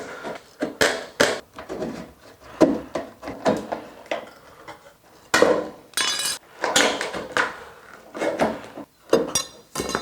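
Snips cut a metal downspout elbow along marked lines, making repeated sharp, close metallic snips and clanks in an uneven rhythm.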